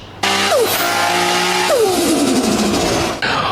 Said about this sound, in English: In this video, you should hear some turbo IS200 noises